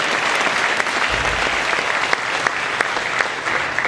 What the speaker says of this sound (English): let's give a big round of applause to all the parents and music teachers too